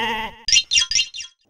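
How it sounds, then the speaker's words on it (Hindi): A goat bleats four times in quick succession, loud and close, with a brief stretch of voiced speech just before the cries start. "वो बकरी को खींच के क्यों ले आया तू यहाँ पुलिस चौकी में?"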